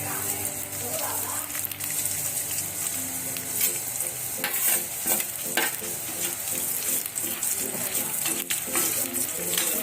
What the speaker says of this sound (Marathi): लाल मिरची भाजून घ्यायची मस्त